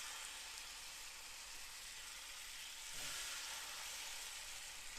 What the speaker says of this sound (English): I love that little sizzle